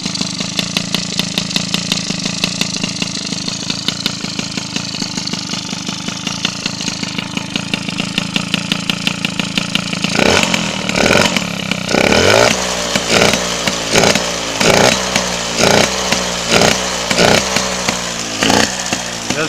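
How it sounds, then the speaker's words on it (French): A small engine fitted with a 15 PHBG carburetor cranks with repeated pulls, then catches and runs with a rapid, buzzing two-stroke-like firing rhythm, loud and close, revving up and down in bursts. "Donc là on va essayer de démarrer ça, voir si ça démarre et si ça tourne."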